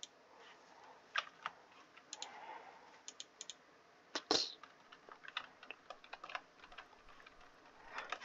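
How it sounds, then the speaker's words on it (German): Computer keyboard typing during a gaming session, with irregular bursts of close, crisp key clicks and a few louder clacks spread over several seconds, no voice. "Sorry, dass ihr meine Tastatur hören müsst."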